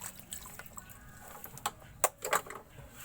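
Water splashing and dripping while a bottle is rinsed, soft intermittent trickles and drips with a few brighter splashes near the end, fairly quiet and close.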